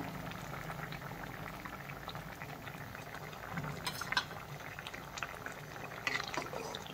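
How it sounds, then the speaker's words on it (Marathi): Drumstick amti, a dal curry, bubbles steadily in a pot with continuous soft popping and gurgling, faint and close, with a couple of slightly louder bursts. "आता सगळ्यात शेवटी आपली आमटी छान उकळते आहे"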